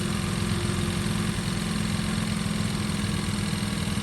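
An old Michigan camp bike motorcycle idles on choke, its small engine chugging in a steady, even loop, close and loud with no voices.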